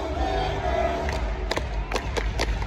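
Arena crowd at a Clippers NBA basketball game roaring and cheering loudly throughout, with sharp shouts and claps rising out of the dense, steady crowd noise.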